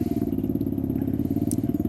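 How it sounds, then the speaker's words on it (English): A pit bike engine idles and revs in an empty lot, a loud, close, steady rapid-pulsing drone with no talking. "this spot is pretty fun because you can rev up your engine"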